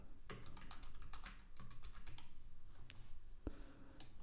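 Rapid typing on a computer keyboard while editing footage in Final Cut Pro, a quick, close run of clicky keystrokes with a few short pauses and a sharper tap near the end.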